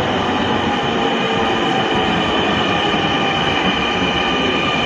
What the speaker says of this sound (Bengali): চলে এসেছে সেই স্বপ্নের মেট্রো রেল।